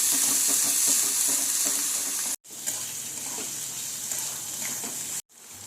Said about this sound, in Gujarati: 2 ડુંગળી લઈ લઈશું। હવે આને સાતળી લઈશું। બ્રાઉન કલર થાય ત્યાં સુધી સાતળી લેવાની।